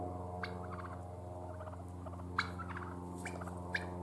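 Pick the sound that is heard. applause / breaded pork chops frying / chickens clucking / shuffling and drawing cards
chickens clucking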